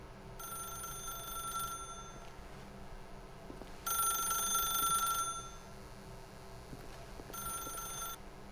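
An old-style telephone bell ringing in the video game The Stanley Parable, three bursts of rapid trilling rings with pauses between them, the middle ring longest and loudest, against quiet background hum.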